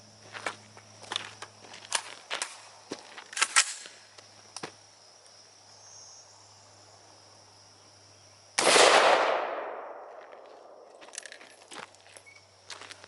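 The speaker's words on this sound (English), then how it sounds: "Let's hit it with 223 Remington on my AR pistol" AR pistol firing .223 Remington at a Spartan Armor III+ steel plate: scattered sharp cracks and clicks lead up to one loud impact blast that rings and decays over several seconds, followed by quieter small knocks.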